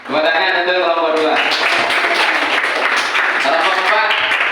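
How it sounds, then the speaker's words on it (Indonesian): Classroom applause for a student group during a maths lesson, dense clapping following a voice at the start, steady and close throughout. "tepuk tangan untuk kelompok 2"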